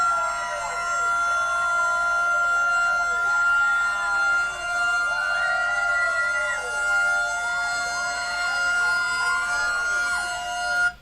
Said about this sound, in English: Let's hit that siren.